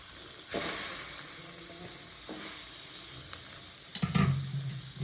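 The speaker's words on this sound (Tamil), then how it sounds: "இந்த சின்ன வெங்காயத்தை அதில் எண்ணெயில் போட்டு வதக்கணும்" Small shallots sautéing in hot oil for a country chicken curry, a soft continuous sizzle with stirring scrapes around the half-second and two-second marks and a louder clatter near the end.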